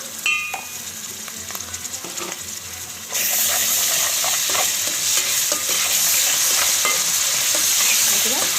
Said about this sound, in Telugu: ఇట్లా అల్లం వెల్లిపాయ పేస్ట్ మొత్తం మిక్స్ అయిపోయినట్టు కలుపుకోండి.